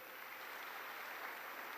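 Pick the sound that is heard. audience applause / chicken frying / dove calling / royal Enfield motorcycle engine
audience applause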